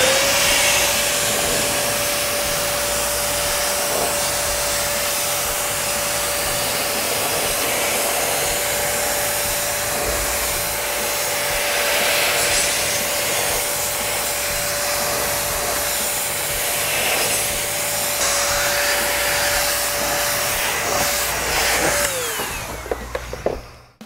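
A Metro Sidekick blower drying a coated car surface runs as a loud, steady whining roar for the whole stretch, then cuts off and winds down at the very end.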